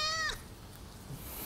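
A cat gives a single short, clear meow at the start, close but fairly quiet, followed by faint room ambience.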